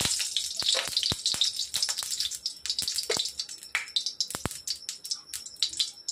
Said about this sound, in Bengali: দিয়ে দিলাম কড়াইতে পরিমাণ মতো সরষের তেল